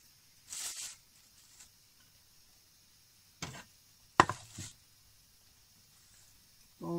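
Soft wet scraping strokes, a few separated bursts with pauses between, close and fairly quiet, like peeling a juicy pear.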